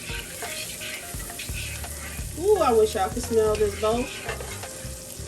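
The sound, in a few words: garlic being stirred and sizzling in a pan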